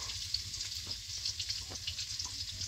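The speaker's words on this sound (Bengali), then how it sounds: "আর এদিকে মাংসের জন্য আলুটা ভাজা করছি" Potatoes fry in a pan for a meat curry, giving off a steady close sizzle with occasional stirring scrapes and no talk.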